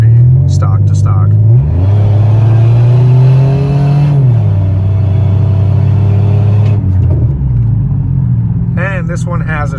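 A supercharged Pontiac Grand Prix GTP with a slow-shifting transmission accelerates hard from inside the cabin, its engine droning in long rising pulls with drawn-out shifts, and people talk over it at the start and end.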